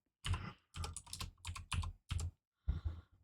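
Keys on a computer keyboard are tapped in quick clustered bursts with short pauses between them, close and clear in a quiet room.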